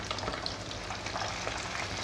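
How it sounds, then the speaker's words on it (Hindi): Chargha chicken deep-fries in very hot oil, producing a dense, steady bubbling sizzle close up with no pauses. "ऑयल में हम ये अपना चरखा फ्राई करते हैं, डीप फ्राई करेंगे थोड़ा।"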